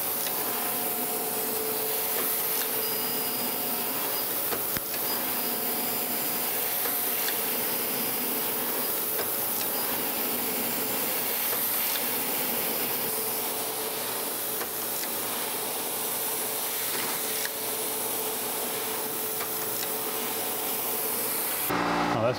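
Surface grinder grinding a tapered machinery gib for a Monarch lathe restoration, a continuous bright hissing, rubbing abrasive whir that stays steady and fairly loud throughout, with no speech.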